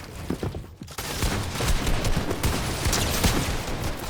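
Rapid exchange of gunfire in the video game Fortnite, a dense loud volley of shots after a brief pause, continuing steadily to the end.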